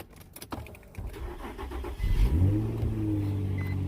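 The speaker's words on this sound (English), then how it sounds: "now let's turn on the car." A car engine cranks after a few clicks and handling noises, then catches and settles into a steady idle, close by.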